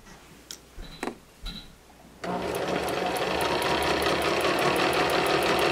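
After a few soft handling clicks, a home sewing machine starts up and runs steadily, stitching around the corner of a pillow made from kitchen towels with a close, rapid, even whirring rattle.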